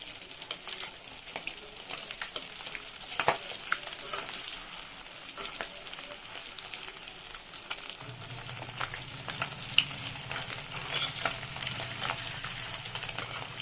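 Boiled eggs fry in a hot pan for egg curry, giving a steady close sizzle with light scraping as they are turned one by one, and the frying noise grows fuller toward the end.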